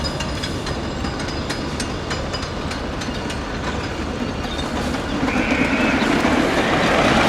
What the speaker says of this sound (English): starting off here with what might be the world's most famous roller coaster,